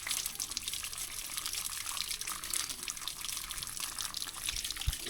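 Water runs steadily from a tap, a broad splashing hiss close by, with a faint knock near the end.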